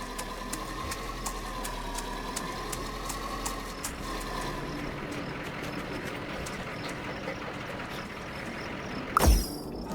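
Low, steady tractor engine chugging in the video game Farm Together, with a rapid mechanical ticking rhythm, continuous throughout, with a brief thump near the end.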